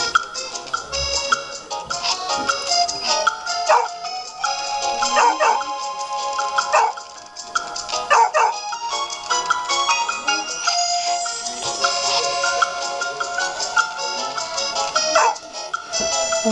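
Golden retriever puppies in the Nintendogs + Cats video game yip and bark repeatedly in quick bursts over bright, steady game music, with no speech.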